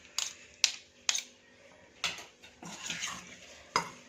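Cauliflower florets being tossed with cornflour and masala in a metal bowl, a spoon clinking and scraping against the sides in a few sharp knocks followed by softer stirring scrapes, close and alone.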